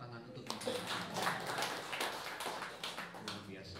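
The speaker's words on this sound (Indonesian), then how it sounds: "Kita beri tepuk tangan untuk Ibu." A church prayer gathering of elderly people claps together in a soft, scattered round of applause, fairly distant and quiet, with a voice speaking over it.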